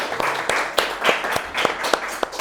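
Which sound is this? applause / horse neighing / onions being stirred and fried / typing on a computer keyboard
applause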